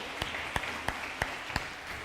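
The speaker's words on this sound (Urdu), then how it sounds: "بہت ساری تالیاں ان کے لیے." A studio audience at a Ramadan iftar television game show claps in unison, about six sharp, evenly spaced beats over a soft background murmur, moderately quiet, with no speech.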